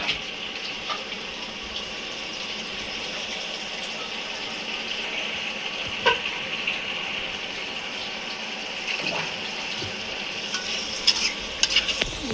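Tomato masala with chopped coriander leaves sautés in a pan with a steady, moderate sizzle, marked by a few faint scrapes of stirring over the constant hiss.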